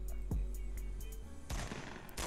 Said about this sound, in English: Oh, shots.